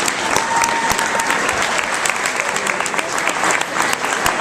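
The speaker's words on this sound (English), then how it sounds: "So let's give our fifth graders one more big round of applause" A school audience applauds fifth-grade student authors at an evening reading event, a steady dense wash of many hands clapping throughout, fairly loud and continuous with no talk over it.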